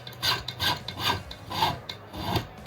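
A file rasps across the wooden edge of a guitar body in slow, even back-and-forth strokes, about six scraping passes, close and clear with no talking.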